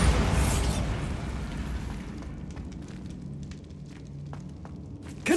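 A Bombarda spell blasting a barricaded archway in Hogwarts Legacy, a loud deep explosion at the start that rumbles away into scattered clatter of falling debris, ending with a fresh burst.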